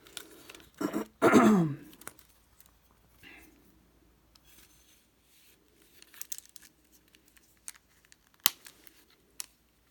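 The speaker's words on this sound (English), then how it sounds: "When you take it out, the hand guard itself pushes the leather aside, so it never gets cut." A handmade knife drawn slowly from its leather sheath, heard as a close leathery rubbing scrape over about a second, followed by quieter handling rustles and a few small clicks, with no talking.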